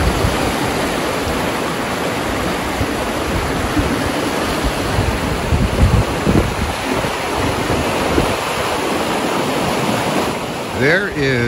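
Flooded Santa Ynez River rushing east of the Alisal Bridge, a loud, continuous roar of fast-moving water with wind buffeting the microphone throughout.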